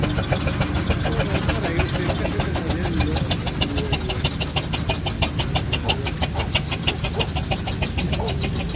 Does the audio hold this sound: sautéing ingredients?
no